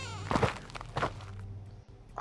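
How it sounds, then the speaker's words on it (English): Faint footsteps in an audio drama: a few soft, muffled steps at an uneven pace, quiet and somewhat distant, with no talking over them. "I hear a door creak followed by the faint sound of footsteps"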